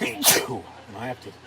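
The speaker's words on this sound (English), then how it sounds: "I wasn't expecting to sneeze a couple times tonight, as bad as I did" A person sneezes once, sharp and loud up close, and talks just before and after it.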